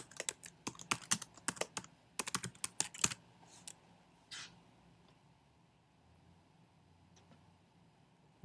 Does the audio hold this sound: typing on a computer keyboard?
yes